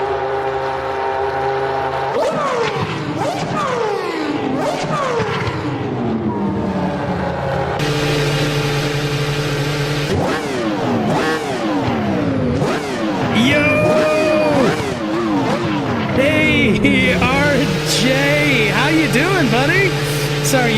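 Formula One car engine revving hard at Suzuka circuit, screaming upshifts and downshifts sweeping up and down, loud and close throughout, with someone talking over the roar.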